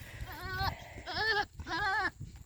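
A rutting billy goat lets out three loud, close, wavering bleats in quick succession, each a nasal quavering cry with short pauses between, no talk alongside.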